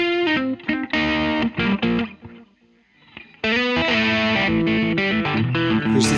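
An electric guitar runs through an Ibanez Sonic Distortion pedal with delay, playing loud, heavily saturated chords and notes, with a short gap before the fuzzy tone surges back and sustains.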